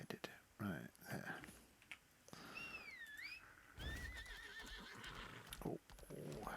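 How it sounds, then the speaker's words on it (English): Horse in the Lost Ark video game neighs and whinnies in rising and falling calls, with clip-clop hoofbeats and game sounds and someone talking around them. "Oh, oh. Look at my horse. My horse is amazing."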